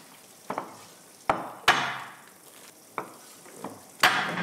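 A Chinese cleaver strikes a cutting board in a kitchen, with a handful of sharp, irregularly spaced chops ringing out against a quiet background, each followed by a short decaying rattle.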